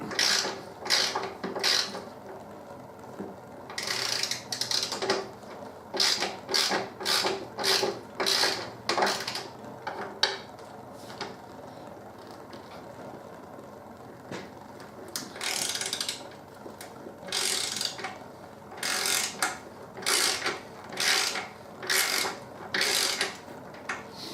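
Bolts holding the rear mudguard on a Harley-Davidson Deuce are undone with a ratchet, making bursts of quick clicking at close range, pausing and restarting several times against a quiet workshop background.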